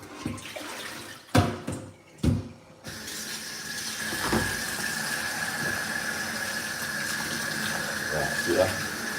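Filtered water runs from a kitchen sink tap in a steady, close hiss after a few sharp knocks and clatters, with a high whine from the tap and faint splashing as things are rinsed under the stream.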